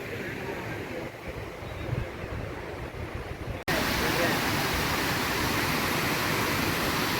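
Water spills over the edge at Bhivapur lake in Amravati, a broad, steady rushing roar close by that jumps sharply louder halfway through as the source is approached.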